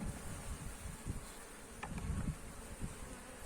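A soft, steady buzzing of many honey bees at a hive in spring, at about 14 °C, fills the air, low and continuous, with no voices.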